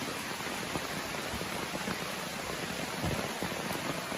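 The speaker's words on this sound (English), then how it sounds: "fall asleep to the sound of the rain" Steady rain falls at night on a tent while camping on the Appalachian Trail in Pennsylvania, a constant dense hiss with occasional heavier drop patters close by and no talking.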